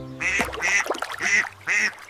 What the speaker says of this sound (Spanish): Es un animalito amarillo y le encanta nadar. ¡Es el patito! Mira cómo mueve su colita. Él dice, ¡cuac, cuac, cuac!